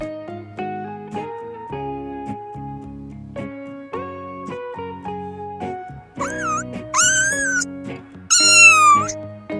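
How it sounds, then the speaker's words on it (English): A kitten meows several times in quick succession near the end, its high, wavering cries loud and close, rising over steady background music that plays throughout. "Kitten."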